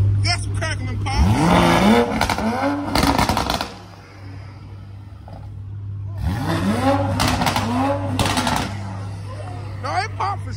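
A Dodge Hellcat or Scat Pack engine revs up twice, rising and falling in pitch, with sharp crackling pops from the exhaust; people talk over it in night traffic.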